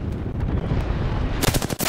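Rapid automatic gunfire in Apex Legends, a tight burst of sharp shots crackling near the end after a low rumbling lead-in, close and loud.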